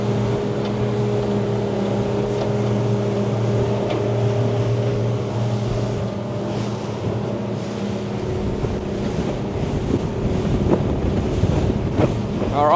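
A Yellowfin Plate 76F aluminium boat carves a hard turn at about 4,000 RPM, its outboard holding a steady loud drone under rushing water, spray and wind buffeting the microphone throughout.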